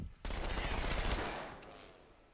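Weapons in the video game Halo 2 fire automatically in a dense, loud burst of rapid gunfire that begins abruptly, holds for about a second, then fades into a decaying tail.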